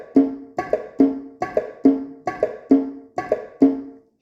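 Keyboard notes mimic an S4 heart sound landing just before S1 and S2, giving a quick three-note gallop that repeats about eight times in a steady cycle, close and distinct, with no speech.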